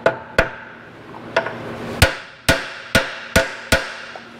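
Sharp metallic hammer blows drive a transmission seal home through a socket on a Ford Thunderbird 5-speed gearbox, seven distinct close strikes at irregular then steadier intervals, each ringing briefly before decaying.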